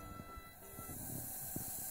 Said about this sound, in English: Listen to the fizz.